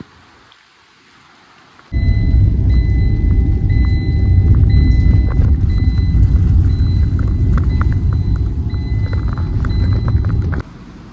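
Steady, heavy rain pours down continuously, a dense hiss with patter on surfaces, starting abruptly and cutting off near the end.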